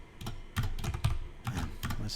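Fingers type on a computer keyboard in quick clustered bursts of clicky keystrokes, close by, with a voice talking faintly underneath.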